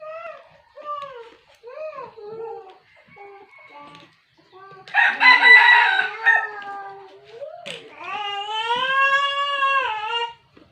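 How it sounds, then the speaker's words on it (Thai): Chickens cluck in short rising calls, then a rooster breaks in with a loud, drawn-out crow. A second long crow follows near the end, all close by and in the open. "ไก่"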